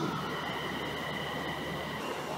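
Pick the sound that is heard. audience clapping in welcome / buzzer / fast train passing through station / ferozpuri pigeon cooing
fast train passing through station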